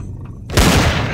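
A single sharp, loud gunshot in the Empyrion Galactic Survival video game cracks out after a moment of quiet and trails off in a brief echoing tail.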